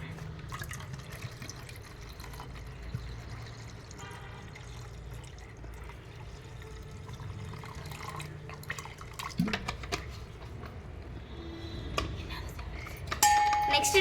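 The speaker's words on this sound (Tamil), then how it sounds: "இப்போ நெக்ஸ்ட் வாட்டர் ஊற்றிக்கலாம்." Water is poured into a bowl while making summer buttermilk with salt, a soft continuous trickle and splash heard close, with a few clinks near the end and a faint voice in the background.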